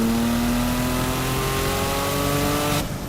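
A 1000whp Porsche Turbo engine revs hard with sharp throttle response, a loud sustained harmonic roar that cuts off abruptly near the end.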